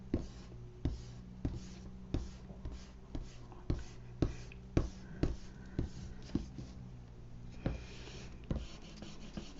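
Pencil drawing a dog portrait on paper, a soft, close scratching with regular rhythmic strokes, each stroke a faint gritty tick over a quiet background hum.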